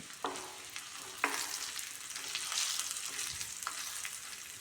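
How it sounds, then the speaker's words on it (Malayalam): Fenugreek seeds and dried red chillies frying in hot oil for a pineapple curry, a soft continuous sizzle punctuated by a few sharp ladle taps and stirring scrapes, close but fairly quiet, with no speech. "എണ്ണ ചൂടായി വരുമ്പോൾ നമ്മൾ ഉലുവ ചേർത്ത് കൊടുത്തു ഉലുവ നന്നായി മുരിഞ്ഞ് വരുന്നുണ്ട് അന്നേരം നമ്മൾ വറ്റൽമുളകും കൂടി ചേർത്ത് കൊടുത്തു"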